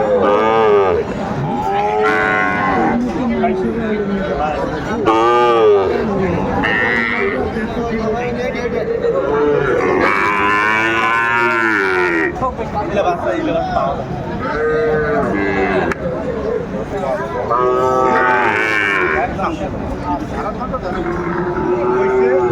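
Cattle moo repeatedly, loud and close, long drawn-out calls rising and falling one after another with some chatter in the background, at a farm with Sahiwal cows and calves.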